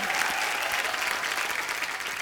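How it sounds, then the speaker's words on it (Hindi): Steady, dense applause from a large comedy show studio audience, clapping evenly throughout at a fairly loud level with no pauses. "इस बात के लिए जोरदार तालियां"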